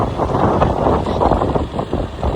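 A vehicle engine drones steadily and loudly under heavy wind rush, with a rough, rumbling texture throughout.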